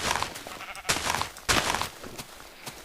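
Sheep bleating in the video game Minecraft, several short bursts, close and fairly loud, standing alone without any talk over them.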